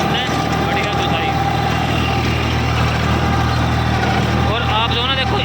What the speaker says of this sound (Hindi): इंजन का साउंड भी सुन लो